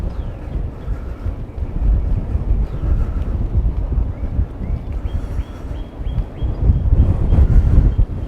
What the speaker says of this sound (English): still quite windy.